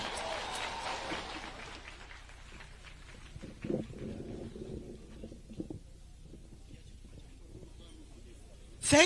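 An audience applauds at an outdoor music festival concert at the Eldoret State Lodge, a broad patter of clapping that fades within a couple of seconds, followed by quieter crowd sounds and scattered noises.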